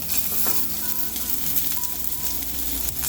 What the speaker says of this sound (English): Sear that steak.